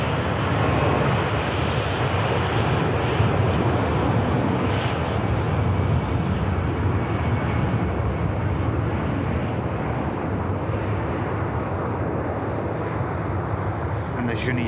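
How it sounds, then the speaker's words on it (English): An Emirates airliner taxiing at Manchester Airport gives a steady, loud broadband jet-engine roar that holds evenly throughout, heard from fairly close with no distinct speech. "the Emirates continues the taxi"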